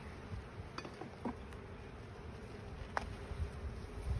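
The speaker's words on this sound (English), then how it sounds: "This has a lot of bees." Low, steady insect buzzing fills the clip, a dense drone of many honeybees close by in an open hive, with a few faint clicks and taps scattered through.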